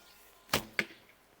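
Two lightweight arrows released from a hill style bow, each a sharp, brief thwack, about a quarter second apart, close and otherwise quiet.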